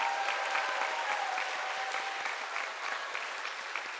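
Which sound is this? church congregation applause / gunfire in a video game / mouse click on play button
church congregation applause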